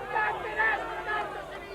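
A boxing crowd at a 1991 European lightweight title fight shouts in protest, a dense, steady roar of many voices with swelling peaks and no single clear speaker.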